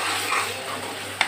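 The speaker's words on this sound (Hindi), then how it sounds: "अब इसको अच्छी तरह से भून लूंगी मैं।" Kofta masala stirred and roasted in a pan: a steady close sizzle with scraping from the stirring and a brief sharper clink near the end.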